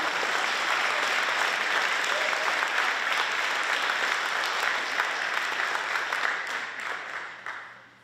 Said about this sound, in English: Let's give this group of senior athletes a nice round of applause.